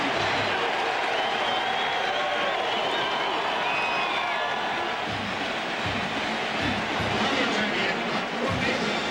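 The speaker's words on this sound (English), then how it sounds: "And this crowd now is getting really loud." A large football stadium crowd at a Georgia versus Tennessee college game roars loudly and steadily, a dense wall of cheering and applause with occasional low thumps.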